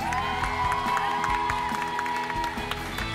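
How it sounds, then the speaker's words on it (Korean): An audience at a televised singing competition claps warmly in a steady, dense wash of applause that lasts the whole short moment, with faint cheering mixed in. "다시 한번 뜨거운 박수 부탁드립니다."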